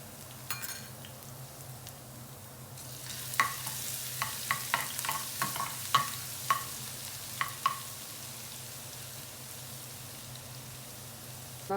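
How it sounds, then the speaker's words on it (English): Garlic toasting in hot oil in a pan, a faint steady sizzle with scattered small crackles and stirring clicks, quiet and close, no voices. "Then I'm going to add half of my garlic. Now I want this garlic to be really toasted well."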